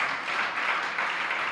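An audience at a Jain religious sermon claps together for the elderly, a dense, even patter of many hands lasting briefly at moderate distance.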